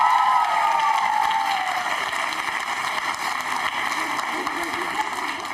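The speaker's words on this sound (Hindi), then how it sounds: "जोरदार तालियां आपने लिए बजाइए।" An audience at a college quiz show held for Navratri applauds, steady sustained clapping with a loud voice over it at the start.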